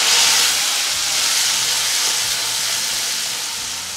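Three dried red chillies, then tomato, sizzling in hot oil in a pan for kudampuli (Malabar tamarind) rasam: a loud, steady frying hiss that eases slightly over a few seconds, with no talking.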